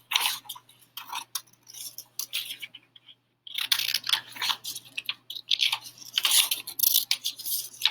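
Scissors snipping around the outline of a paper foldable cut into a plus shape, a steady run of short crisp cuts with a brief pause partway through, close and fairly quiet.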